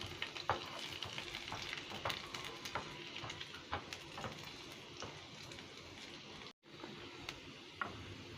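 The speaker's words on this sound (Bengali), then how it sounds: "এরপর দিয়ে দিচ্ছি রসুন কুচি আর আদা কুচি। এটাকে 1 মিনিট ভেজে নেব।" Chopped garlic and ginger fry in a pan with a continuous close sizzle and scattered pops and crackles, briefly cutting out for a moment before resuming.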